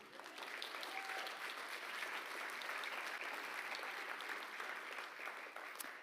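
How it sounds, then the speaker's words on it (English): Audience at a university startup showcase event clapping in a sustained round of applause, dense and even throughout, fairly distant in a large hall. "I think that deserves a round of applause as well"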